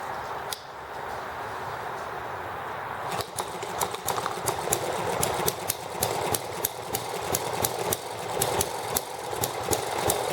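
A small ET6/M92 horizontal model engine starts and runs, first a steady low mechanical drone, then from about three seconds a rapid, regular run of sharp clicks and exhaust pops over a continuous whirr, close and fairly loud.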